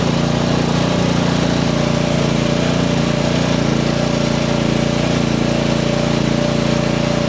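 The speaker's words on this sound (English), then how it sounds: "This machine is very capable of pushing snow, and easily and cleanly." A small Chinese mini skid steer pushing deep snow runs its engine at a loud, steady drone, close by and unbroken, with a constant low rumble and no talk.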